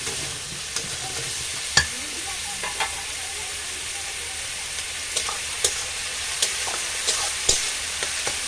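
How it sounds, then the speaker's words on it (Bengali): Diced pumpkin sautés with onion in a hot pan for a home-style chicken kasha, a steady close sizzle broken by occasional sharp spoon clicks against the pan. "পরিমাণ মতো হলুদ কুমড়োটাকে পেঁয়াজের সাথে ভালোভাবে কষিয়ে নেবো"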